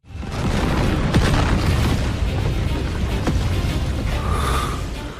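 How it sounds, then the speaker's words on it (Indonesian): Cannon fire from imperial soul cannons destroying a capital city, heard as a continuous roar of booming explosions with rumbling blasts and a sharp burst near the end, loud and sustained throughout. "Yuho masih tidak bisa menahan amarah ketika menyaksikan bagaimana meriam-meriam jiwa kekaisaran Ryu menghancurkan kota Doling"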